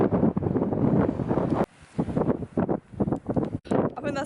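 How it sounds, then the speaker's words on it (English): Strong gusts buffet the microphone on a windy clifftop along the Jurassic Coast, a heavy roar that drops out briefly and returns, with a voice faintly under it. "It's a bit bloody windy up here."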